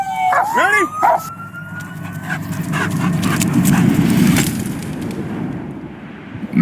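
A police dog barks in sharp, close bursts near the start, then pants and moves over a rumbling, noisy outdoor scene.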